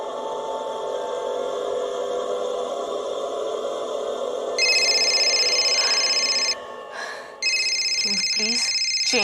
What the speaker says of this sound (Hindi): Change your stupid ringtone.